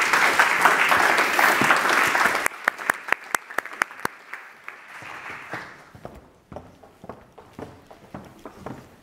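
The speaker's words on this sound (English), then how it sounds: "So please do give them a round of applause." An audience at a panel event on hybrid working gives a round of applause for the speakers: dense, loud clapping for about two seconds, then thinning out into scattered individual claps that fade away.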